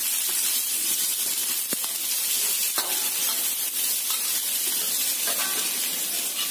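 Onions sautéing in a pan while cooking a green vegetable dish, giving a steady close sizzle and hiss throughout with a few light stirring scrapes and clinks, no voices.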